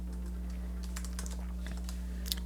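Fingers tap out a short word on a computer keyboard, soft clicks coming in brief, uneven bursts over a steady low electrical hum, with no one speaking.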